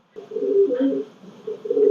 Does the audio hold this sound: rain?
no